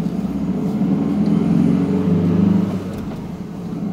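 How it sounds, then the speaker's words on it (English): A car engine revs hard in first gear, a loud, sustained low drone that swells in the middle and eases slightly toward the end, with no talking. "Very high revs for not a lot of action."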